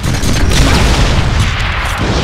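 Gunfire and heavy booming blasts in the Deadpool video game, a loud, sustained barrage with no pauses.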